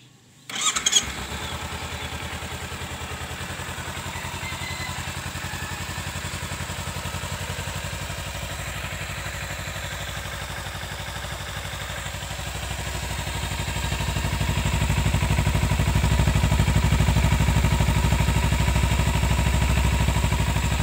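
A 2017 Kawasaki Ninja 300 ABS motorcycle engine runs steadily after a brief startup clatter, growling low and close, then grows louder as it revs up near the end.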